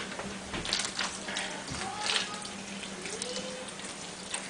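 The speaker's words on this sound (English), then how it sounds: "I take my trays outside and I just water them with the hose" Garden hose gently watering seed trays of soil outdoors, a soft steady spray and patter with faint fluctuations, quiet and continuous.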